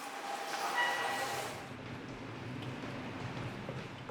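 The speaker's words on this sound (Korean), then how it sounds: "시장 입구에 자리 잡은 대구 지하철 1호선 칠성시장역." A Daegu Subway Line 1 train at Chilseong Market station rumbles through, a broad rushing roar that fades after a moment into lower steady rolling noise.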